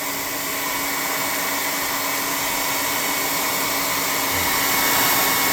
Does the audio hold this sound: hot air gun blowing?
yes